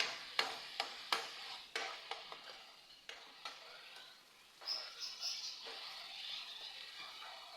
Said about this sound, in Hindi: अच्छी तरह मिक्स करेंगे